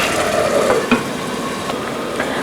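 Carrots cook with meat in a pot, giving a steady close sizzle with faint stirring scrapes and no talking.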